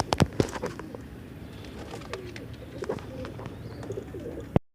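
Pigeons cooing at a Sunday bird market in Multan, soft close coos and fluttery taps over a busy background murmur, a few sharp knocks near the start, with no talk.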